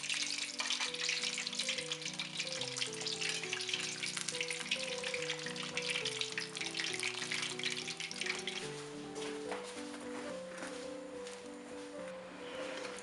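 Chebureki deep-fry in hot oil, a dense continuous sizzle and bubbling that stays loud and close throughout, while soft background music plays underneath.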